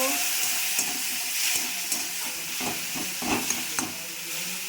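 Spice paste of chili, turmeric and cumin powders with salt and a splash of water is stir-fried in oil for a goby fish curry, giving a steady sizzle broken by scraping stirs and small pops.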